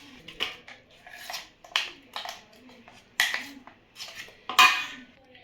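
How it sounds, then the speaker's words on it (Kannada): Ground chili batter stirred in a pan for masala vada, a series of clattering scrapes and knocks of a spoon against metal, with speech heard between them. "ಸೊ ಈಗ ಇದನ್ನೆಲ್ಲ ಒಂದು ಬಾಣಲೆಯಲ್ಲಿ ಮಿಕ್ಸ್ ಮಾಡ್ಕೊಳ್ಳೋದು."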